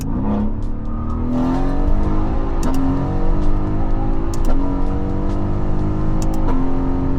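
A Mercedes-AMG GT S V8 accelerates hard on an open highway, its engine note rising through the gears with brief dips at each shift, loud and close from inside the car.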